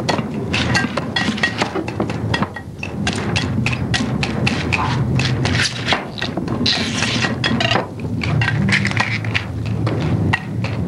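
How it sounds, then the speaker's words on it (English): A kitchen whisk mashes avocado for guacamole in a bowl, making repeated rhythmic clacking and squishing knocks, fairly loud and close, continuing throughout. "Today we're going to mash up the old avocado."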